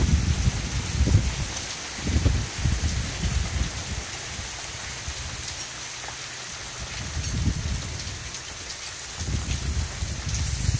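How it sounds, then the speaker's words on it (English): Steady pouring rain during a summer storm hisses on surfaces throughout, with low rumbling swells that rise and fall beneath the constant downpour. "Pouring rain here."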